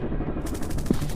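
Gunfire from a counter-terrorist FPS shooting game, PUBG, with a continuous dense rattle of shots through the short moment and one slightly louder hit near the end.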